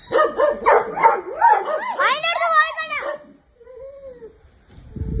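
A Siberian husky or Australian kelpie at a Wayanad bird park gives a run of yelping, whining barks up close, with voices talking before and after it.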